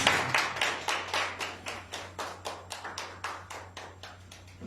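Slow, steady claps ring out in a church, about fifteen evenly spaced hits with a soft echo, sounding like a few hands clapping in unison rather than a full ovation.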